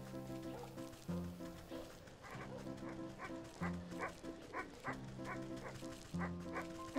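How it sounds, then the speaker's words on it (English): A dog in the video game Wytchwood barks and yips repeatedly in quick bursts over looping background music, fairly clear and mid-distance. "I thought there's a dog there."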